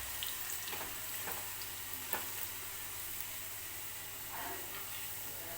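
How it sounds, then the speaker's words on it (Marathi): Potatoes frying in oil for a Maharashtrian peanut and potato amti, giving a steady, fairly quiet broadband sizzle with a few faint scrapes and clicks over its length, no voices. "व्यवस्थित तेलामध्येच बटाटा आपल्याला पहिल्यांदा फ्राय करून घ्यायचा आहे"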